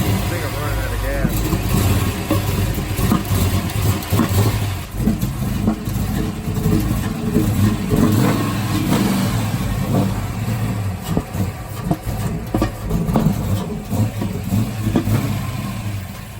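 A Ford Foxbody 5.0 302 V8, freshly overhauled, runs loud and close with rough surges and revs under the idle, while people talk over it the whole time.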